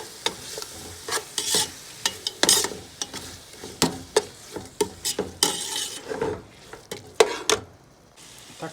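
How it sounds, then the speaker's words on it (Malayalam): Two tomatoes being stirred as they fry in a pan for shrimp biryani, a close run of brisk scraping strokes with spoon-on-metal clinks over a steady soft sizzle, alone without talk. "രണ്ട് തക്കാളി നന്നായിട്ട് ഇളക്കുക"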